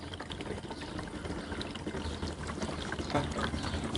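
Liquid pours steadily from a gallon can beside a 1952 Harley Panhead motorcycle, a continuous splashing trickle with no talk.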